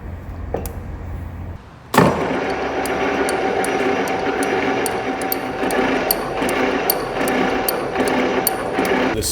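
A Kitchen & Walker horizontal facing boring machine runs after being sped up to 72 RPM. A steady mechanical drone kicks in about two seconds in and carries on with regular light ticking throughout, with no voices.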